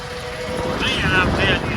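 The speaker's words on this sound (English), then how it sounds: "Winds are blowing like crazy." Strong wind roars and buffets the microphone during a stormy night of feeding cattle from a tractor, a steady loud rumble with someone talking over it.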